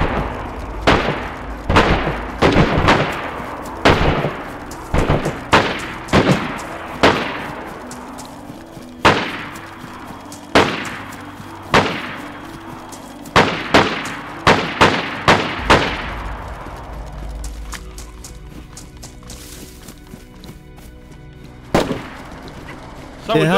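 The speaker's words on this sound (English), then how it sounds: "I think they're shooting at the heli." Gunfire at a helicopter in DayZ: a string of loud, sharp single shots with echoing tails, irregularly spaced, some in quick pairs, then fading toward the end, with talk in the background.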